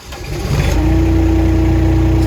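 An SM100 machine's engine cranks and catches, then settles into a loud, steady, close-up idle with a constant hum.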